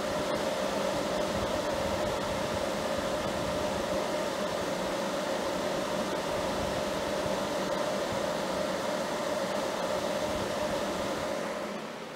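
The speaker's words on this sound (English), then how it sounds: "and obviously some of that's the kettle that you can hear." A 3 kW fast-boil electric kettle heats water nearby, giving a steady loud rushing hiss with a faint tonal hum that holds for several seconds before easing slightly at the end, no talking.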